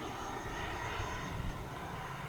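A Flyfans MiG-25 Foxbat RC jet with twin 64 mm electric ducted fans cruises past, giving a steady, fairly distant whooshing roar that holds an even level throughout.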